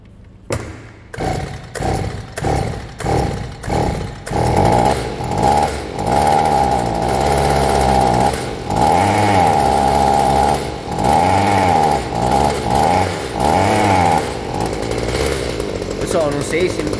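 A Stihl HS 45 hedge trimmer engine, running slightly rich after its carburetor needle was opened further, sputters in a series of rhythmic bursts, then revs up and down repeatedly, loud and close.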